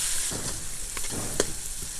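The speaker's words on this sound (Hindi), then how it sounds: "मटर तकरीबन ऑयल में हमने 4 से 5 मिनट अच्छी तरह भून लिए हैं" Green peas fry in hot oil for matar pulao, giving a steady close sizzle with a couple of brief stirring clicks, no voices.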